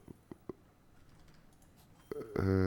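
A computer mouse clicks while Airport CEO is played: a few quiet, sharp clicks spaced apart near the microphone, then a voice starts speaking at the end.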